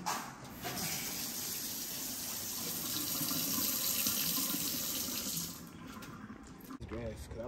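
A faucet in a newly built house runs steadily, water gushing and splashing into a basin for several seconds before it shuts off, with a voice briefly heard near the end.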